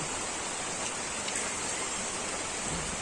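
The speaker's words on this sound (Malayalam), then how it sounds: "ഇവിടെ ഭയങ്കര മഴയാണ്" Heavy rain pours steadily outdoors, a dense, even wash of rainfall hissing without a break at close range, with no voices over it.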